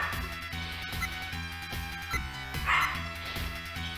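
A dog barks a few times in the Sega Genesis role-playing game Sorcerer's Kingdom, short yaps mixed into steady looping chiptune music.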